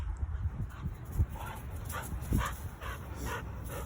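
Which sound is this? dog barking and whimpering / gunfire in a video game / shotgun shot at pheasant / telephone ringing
dog barking and whimpering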